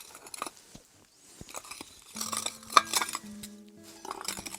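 Old Soviet dishes, saucers and cups being handled, with scattered clinks, taps and scraping clatter of crockery coming close and irregular, busier in the second half.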